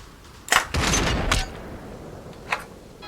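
A single sniper rifle shot from a VR game, played through a haptic recoil rifle stock, lands as one sharp loud crack with a short tail, followed by a faint click a second later.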